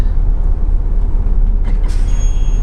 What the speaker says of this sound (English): brakes released.